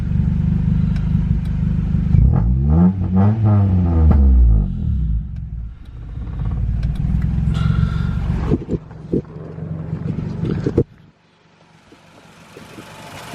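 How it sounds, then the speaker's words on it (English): An H-swapped Honda Accord CD5 engine cranks, catches with a rising rev, then settles into a loud, close, steady idle rumble before cutting off abruptly. "Starts right up. Idles beautifully."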